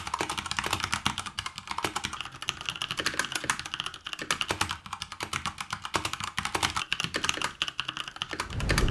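Rapid, continuous typing on a mechanical keyboard with Cherry MX Brown switches, close and crisp, with a dense patter of key clicks and no talking.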